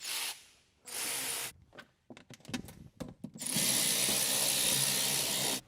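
Ratcheting and metallic clicks from tightening bolts while installing a power frunk on a Tesla Model Y, with two long bursts of whirring ratchet noise around a stretch of scattered, irregular clicks, close and fairly loud.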